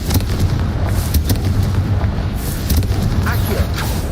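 A Confringo spell explosion from the video game Hogwarts Legacy lands as a loud, deep, sustained boom with dense rumbling energy throughout, close and forceful, with game voice faintly underneath.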